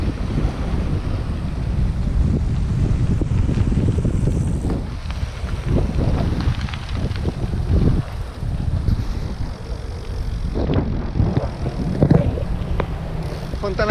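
Strong wind buffets the microphone in a continuous low roar, with gusts rising and falling; water and waves may sound faintly beneath. Outdoors among the Prosecco hills in Veneto.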